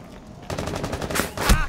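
Enemy gunfire in Rainbow Six Siege on the Consulate map during Terrorist Hunt, a rapid automatic burst of shots followed by a louder close report near the end, with no talking.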